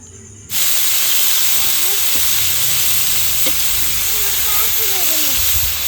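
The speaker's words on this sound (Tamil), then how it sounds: "சீக்கிரமாக வதங்கணுங்கிறதுக்காக பாவக்காய் வதக்கிட்டு இருக்கேன்" Bitter gourd sautés in hot oil with salt, giving a loud, steady sizzle and hiss that starts abruptly and runs throughout, with faint voices and light stirring beneath.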